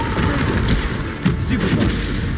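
A Bombarda explosion spell from Hogwarts Legacy bursts in loud, close blasts, with sharp hits near the start and midway over busy combat noise and rumbling low end.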